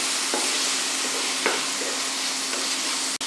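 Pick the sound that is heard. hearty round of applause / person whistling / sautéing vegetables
sautéing vegetables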